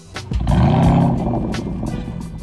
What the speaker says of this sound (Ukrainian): Спортивна вихлопна система GTS забезпечує насичений звук